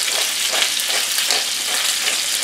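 Salmon fillet frying in a hot skillet gives a continuous, dense, bright sizzle at close range, steady and crackling throughout with no talking.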